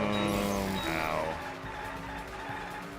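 A car driving with its tires skidding: a loud, droning engine tone with a brief squealing sweep early on, fading to a steady, lower rumble.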